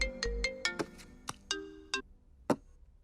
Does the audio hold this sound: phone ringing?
yes